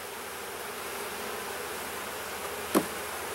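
A steady, soft drone of honey bees hums around an open nuc hive during an inspection. One brief louder knock or scrape comes near the end.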